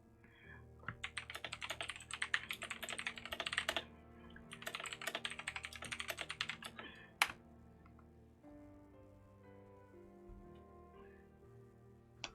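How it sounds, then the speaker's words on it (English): Typing on a computer keyboard during an online tabletop game session, with rapid clattering keystroke bursts close to the microphone, two long runs separated by a short gap and then a single sharp tap before a quieter stretch. "We can hear you typing there."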